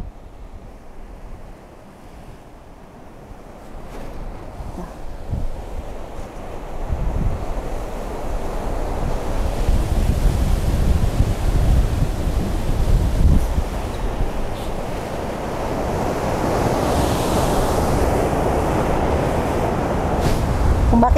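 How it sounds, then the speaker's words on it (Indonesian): Ocean waves surge onto the shore at a beach on Java's southern coast, a steady broadband roar that swells louder and fuller as the water rushes in, with some wind buffeting the microphone and no voices. "Ombaknya nyamperin pemirsa."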